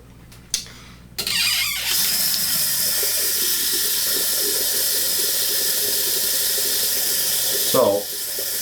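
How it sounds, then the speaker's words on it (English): Tap water gushing into a sink after it drains during a safety razor head shave: a couple of clicks, then a steady loud rushing flow that continues close by until a brief knock near the end. "I'm gonna let this drain down, get some clean water in there"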